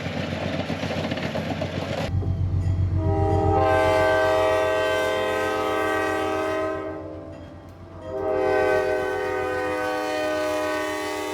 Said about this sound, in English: I was excited to hear the train coming and passing us here